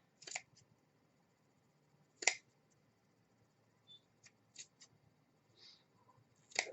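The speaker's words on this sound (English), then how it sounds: "You don't want to cut all the way through, and just kind of cut it in strips." Scissors cutting fabric gauze into strips, heard as sparse, quiet snips and clicks spaced a second or more apart against a near-silent background.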